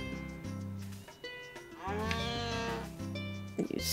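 A farm cow in the farming game Harvest Moon: A Wonderful Life gives a few moos. There are short lowing calls early on, then one long, drawn-out moo near the middle, all close and loud, with no talking.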